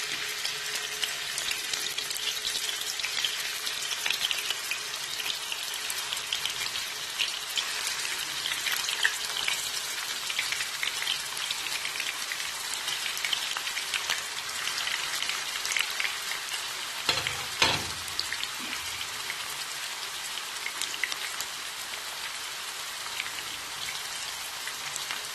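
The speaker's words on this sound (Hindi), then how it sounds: "अब मैं इस ऑयल गर्म हो गया, इसमें गोला कबाब जो है वो फ्राई कर लेती हूँ।" Gola kabab frying in hot oil, a dense, continuous sizzle and crackle close by, steady throughout with a brief clatter midway and no voices.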